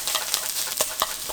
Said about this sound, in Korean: 이제 불세기를 높이고 골고루 섞어서 볶아주도록 합니다.